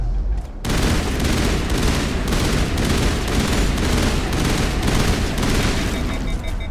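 Shotgun fire from the video game Mass Effect plays as a loud, dense, continuous barrage of blasts and impacts after a brief quieter start, filling the whole scene with little pause.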